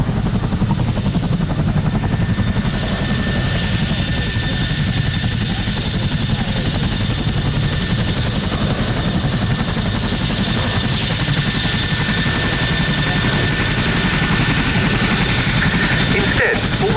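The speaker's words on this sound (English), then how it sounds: "you can see this Swordfish is flying with a dummy torpedo under the fuselage" Fairey Swordfish biplane carrying a dummy torpedo under its fuselage at a Royal Navy air show display, its engine a steady, loud drone held throughout with constant low rumble and whine.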